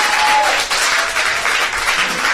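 A live audience at a concert applauds the guitarist with dense, steady clapping from many hands that fills the space, with a murmur of crowd noise underneath.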